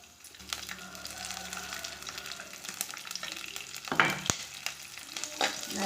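Garlic, black pepper and cumin fry in a pan for a spicy okra kara kuzhambu: a steady close sizzle with stirring scrapes, and a few louder clatters of the spoon toward the end.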